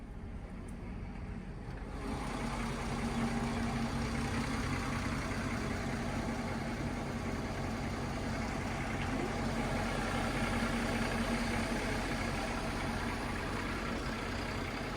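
Twin diesel engines on a 2015 Mikelson 43-foot boat start up and then idle with a steady, deep mechanical rumble and drone, loud and close, continuing evenly throughout.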